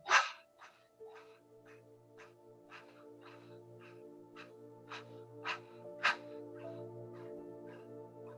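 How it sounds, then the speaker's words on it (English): Rapid breath of fire yoga breathing pushed through the mouth like a dog panting, a steady run of short sharp exhalations about twice a second over a low background hum, close and fairly loud. "we're going to do a breath of fire through the mouth"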